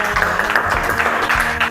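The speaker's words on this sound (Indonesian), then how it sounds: "Tepuk tangan." A classroom of students gives a short burst of clapping, scattered claps close by with a voice faintly underneath.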